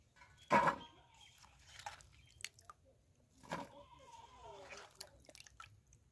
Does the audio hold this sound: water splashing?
yes